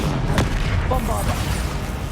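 A Bombarda blasting spell goes off in Hogwarts Legacy, a sharp boom followed by a dense, rumbling wash of battle noise and faint voice-like sounds.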